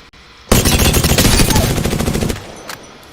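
Rapid automatic gunfire from a high fire-rate video game weapon, a loud sustained burst of closely spaced shots lasting about two seconds, then a single faint shot afterward.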